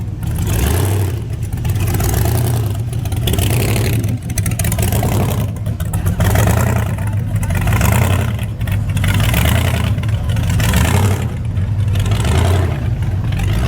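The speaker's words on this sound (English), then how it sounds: "As you can hear one coming up behind me right now." A loud, rumbling supercharged blower car engine idles and revs continuously, throbbing low and heavy close by as it approaches at a car meet.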